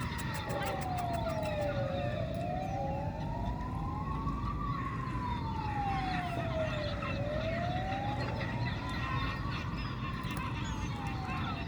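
An ambulance siren wails up and down in slow sweeps, steady and fairly close, over a low rumble of traffic.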